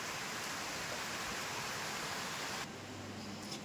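Steady rain pours down on a garden, a dense, even hiss that continues throughout and softens slightly near the end, with no voices.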